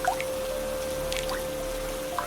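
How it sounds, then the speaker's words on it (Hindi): Water drips from a leaking house roof during a stormy night, a few sparse, soft drops landing over a faint steady hum. "घर की छत कई जगह से टपक रही थी।"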